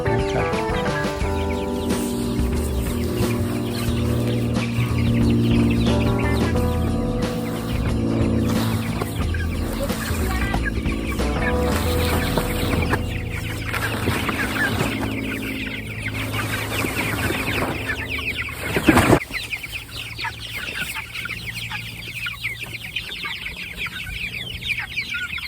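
Chickens clucking inside a small homemade 6-by-3 coop on a homestead, steady overlapping farm-bird calls close by, with a brief louder knock near the end.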